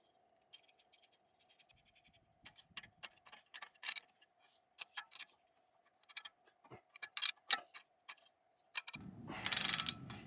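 A ratchet tightens the brake caliper bolts on a 1998 GMC K3500 dually, clicking in quick, close bursts of rapid ticks between short pauses. A louder rushing noise comes in at the very end.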